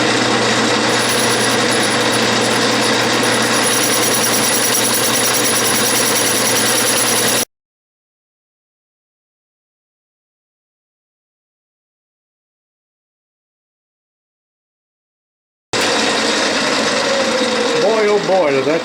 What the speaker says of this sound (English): Oh boy, does that cast iron turn nice.